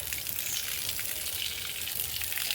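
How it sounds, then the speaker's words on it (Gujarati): Water gushing steadily onto trees on a farm, a continuous close hiss and splash with low rumble, running without pause and with no talking. "જોઈ શકો છો મેં આજે ઝાડવાને પાણી"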